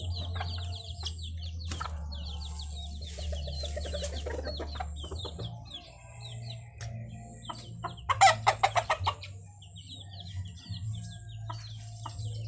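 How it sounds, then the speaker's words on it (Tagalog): Backyard chickens, including a laying hen, cluck throughout while a rooster crows loudly once in the middle, the calls fairly close over a steady low hum. "Yan po inahin na yan may nangingitlog na po yan."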